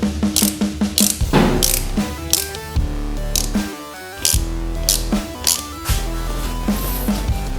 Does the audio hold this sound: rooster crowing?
no